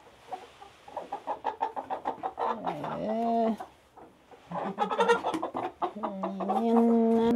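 Chickens cluck and squawk nearby in a backyard coop, a busy run of short clucks broken by drawn-out complaining calls, with no voices.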